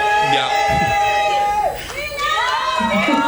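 Crowd at a Bollywood star event cheering and shouting, high excited voices rising and falling around a speaking voice over a microphone.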